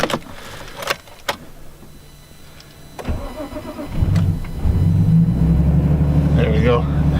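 A car engine cranks and catches on a chilly day, settling into a steady, rising idle as it warms up, with a few sharp clicks and knocks before the start and a person talking briefly nearby.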